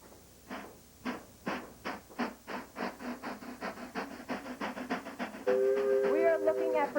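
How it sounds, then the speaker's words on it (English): A 1920s silent-movie trap instrument played as a train effect, giving rhythmic chuffing bursts that speed up steadily, then a shrill whistle blast at the end, fairly quiet and close. "and it's a train effect"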